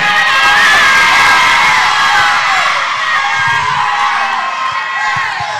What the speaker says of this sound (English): Some of the girls are shouting amen.